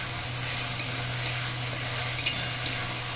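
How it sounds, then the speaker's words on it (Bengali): Spice paste for chicken maharani frying and being stirred in a pan, a steady broadband sizzle with a few soft scraping knocks, close and continuous with no talk. "মশলা খুব ভালো করে কষিয়ে নেব।"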